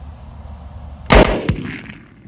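A single sharp, loud Ruger American Gen II rifle shot cracks outdoors, followed by a brief echoing rumble and a short decaying tail.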